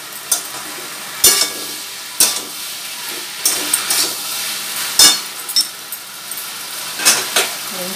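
Taro and eggplant hit a hot oiled pan for a vegetarian taro dish, giving a steady sizzle broken by sharp, irregular scraping strokes of a spatula roughly every second, loud and close.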